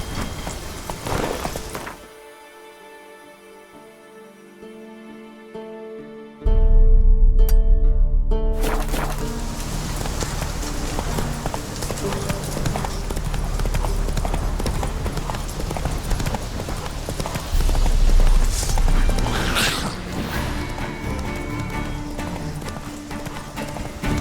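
Roach, the horse in The Witcher 3: Wild Hunt, gallops with rapid, loud hoofbeats that kick in after a quiet stretch and carry on steadily, with a brief whinny and game music or ambience around them.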